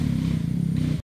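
A loud motorcycle engine drones at a steady idle-like rumble for about a second, then cuts off abruptly.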